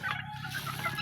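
Backyard chickens being fed, with a steady, close, soft clucking over a low background murmur through the full second.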